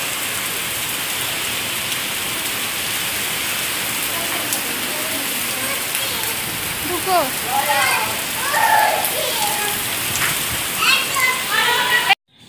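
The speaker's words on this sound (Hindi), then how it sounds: "आप लोग देख सकते हैं बहुत तेज बारिश हो रहा है अभी यहाँ पे" Steady heavy rain pours throughout during a storm in Bihar, India, a dense hiss with brief voices calling out over it near the end before it cuts off.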